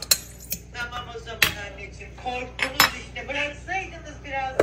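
A metal fork clinks and scrapes against a pressure cooker pot in scattered sharp taps, close by, with faint voices murmuring in the background.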